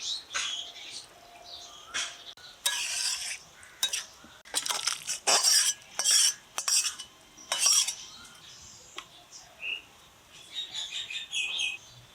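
Cooked tengra fish curry with stem vegetables tipped from a pot into a metal bowl, a run of clattering metallic scrapes and clinks in bursts over a quiet background, with faint birds chirping.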